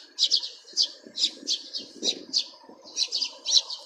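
Many small birds, likely mynas and sparrows, chirp close by in repeated bright bursts, a busy, continuous flock chatter with a faint low background hum.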